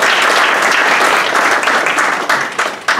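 Audience at an evening angel investor forum applauding loudly and steadily, a dense wash of many hands clapping throughout, easing slightly near the end.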